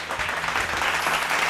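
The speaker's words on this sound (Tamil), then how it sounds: "கைத்தட்டுங்க ஒரு தடவை." A church congregation at a Sunday Tamil service claps together in a brief, dense burst of many hands. The applause is fairly loud and continuous throughout.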